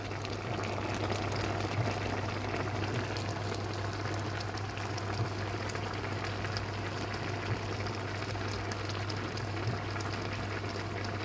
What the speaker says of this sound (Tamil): பபுள் உடைகிற சத்தம்